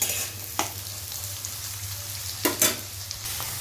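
Green beans sizzle and fry in a pan for fried rice, a steady close crackle with a few louder bursts of stirring scrapes, no voices.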